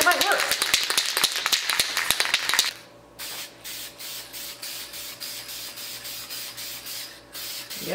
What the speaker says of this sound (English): What if I spray it with clear semi-gloss?